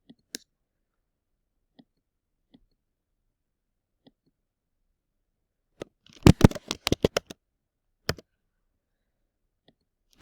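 Keystrokes on a computer keyboard as a last name is typed into a Word document: a quick burst of close, crisp clicks lasting about a second, with a few isolated taps before and after in an otherwise quiet room.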